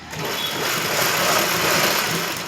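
A sewing machine stitches a pico edge on a saree, running continuously and close at an even, unbroken whir for the whole stretch.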